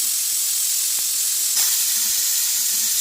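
A pressure cooker of carrots on the stove lets out a loud, sustained steamy whistle-hiss that stays steady and close for the whole stretch.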